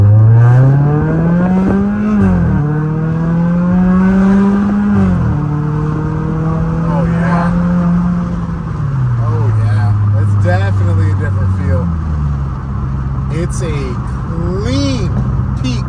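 Chrysler 200 with the 2.4 MultiAir engine and an Injen cold air intake accelerating in sport mode, its loud engine note rising in pitch through several gear changes while a person talks over it.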